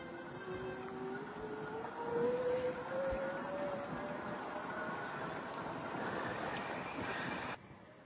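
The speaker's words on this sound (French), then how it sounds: "on entend bien l'assistance électrique et la montée en vitesse rapide" An electric mountain bike motor assist whines upward in pitch as the bike accelerates on a road, with steady wind and tyre rush throughout before a sudden drop near the end.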